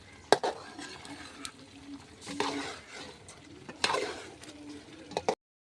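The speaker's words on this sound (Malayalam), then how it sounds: "ഇനി മല്ലിയില അരിഞ്ഞ് വെച്ചത് ഒന്നുകൂടി ഒന്ന് ഇളക്കി കൊടുക്കാം." A spoon stirs thickening chicken curry with chopped coriander in a pan, scraping and clinking against the metal in several distinct strokes over a soft simmering sizzle, close and clear.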